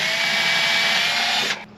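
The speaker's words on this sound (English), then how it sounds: "I'll drill a pilot hole somewhere in there and then I'm going to drill a 7/8 inch hole" A power drill fitted with a speed bit bores a 7/8 inch hole for a homemade lathe tool holder, a loud, steady, high whine that runs up close and alone, then winds down and stops near the end.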